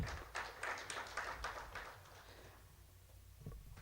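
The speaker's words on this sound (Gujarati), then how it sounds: "આપણે જોરદાર તાળીઓના નાદથી વધાવીએ" An audience claps at a community gathering honoring a new trustee; scattered, moderately quiet applause rises for a couple of seconds and then thins out to a few faint claps.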